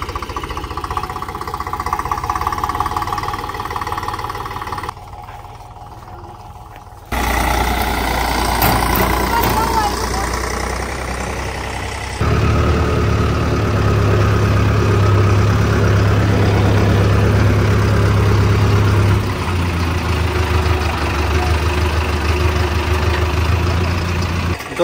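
Eicher 485 tractor engine idling with a Kamdhenu thresher, a loud low rumbling drone that shifts in character across several segments, briefly dropping quieter, with voices faintly present at times.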